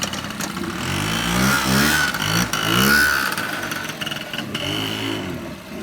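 A Japanese scooter fitted with Chinese tuning parts, running rough and flooding with the choke open, revs loudly and repeatedly up and down close by, its engine rising and falling in steady pulls with no talk.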